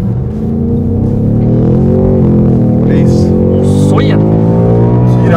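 Ford Mustang Mach 1 launching hard from a standstill, a loud continuous engine roar climbing steadily in pitch as it accelerates, heard from inside the car, with a voice briefly over it.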